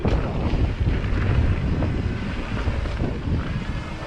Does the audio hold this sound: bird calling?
no